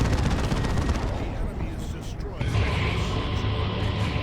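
A plasma cannon firing in Dawn of War 2 during a Space Marines versus Chaos Space Marines battle, a dense roaring barrage of blasts and explosions that dips briefly then surges again, loud and continuous.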